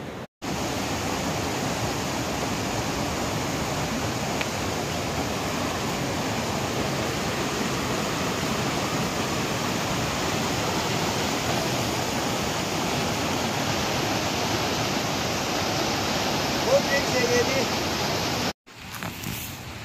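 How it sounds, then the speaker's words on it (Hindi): River water rushes steadily at a crossing point, a dense, continuous broadband roar that holds even and loud for nearly twenty seconds before a brief dropout near the end. "अभी फाइनली नदी पर पहुंच गया है।"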